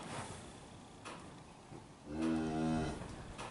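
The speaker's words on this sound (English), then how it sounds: "happy cows." A single drawn-out moo from a cow in a herd of cows and calves let out onto green pasture, fairly close and clear over quiet outdoor background noise.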